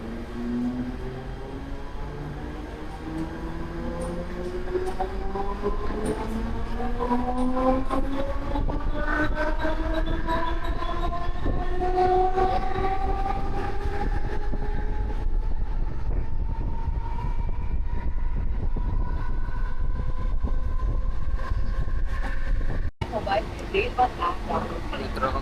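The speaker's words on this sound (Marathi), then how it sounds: "तर आपली ट्रेन आता गोंडे स्टेशनवर डिपार्चर होते" A Mumbai slow local electric train pulls out of Gonde station, its motors whining in rising, layered tones over a loud, steady rolling rumble that builds and holds close by.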